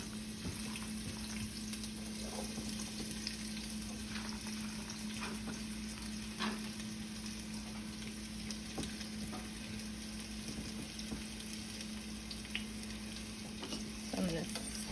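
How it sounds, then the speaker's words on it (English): Chopped onions fry in hot oil over medium heat for Palestinian rice and lentils, giving a steady, close sizzle throughout with occasional stirring scrapes and clicks of a utensil against the pan. "our oil is good and hot now, so I'm going to turn the heat down to a medium heat, and I'm going to go ahead and add the onions"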